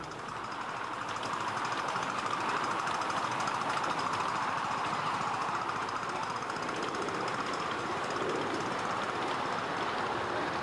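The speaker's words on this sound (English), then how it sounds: "Down trains on the Cockrow Hill branch work against the gradient until cresting the summit at an impressive bridge over the two-track main line." A miniature railway train works up a gradient on a branch line toward a summit bridge, giving a steady, continuous rumble and mechanical clatter that holds at an even level throughout, with no voices.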